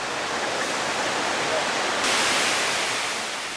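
Niagara Falls roars with a steady, thick wall of rushing water, loud and unbroken, swelling slightly brighter partway through.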